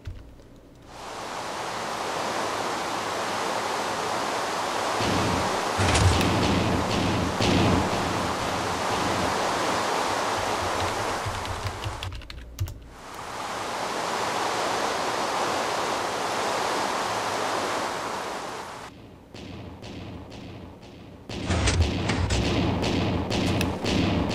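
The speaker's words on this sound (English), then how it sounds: "rain is really loud and you probably won't be able to hear me" Heavy, steady rain in Minecraft roars as a dense hiss, breaking off briefly midway and stopping near the end, followed by some thumping clicks.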